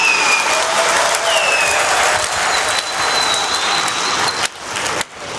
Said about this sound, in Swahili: Tujipigie makofi kwa wote tunaosema ndio.